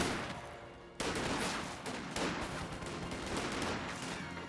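MG-34 machine gun fire in Company of Heroes 2, sustained rattling bursts mixed with other battle gunfire, one sharp onset near the start and steady firing after.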